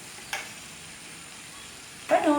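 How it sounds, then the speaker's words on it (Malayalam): Chicken noodles get tossed with a fork in a hot pan: a soft steady sizzle runs under two brief scraping stirs, one early and a louder one near the end. "ഫോർക്ക് വെച്ച് നമുക്ക് മിക്സ് ചെയ്ത് കൊടുക്കാം."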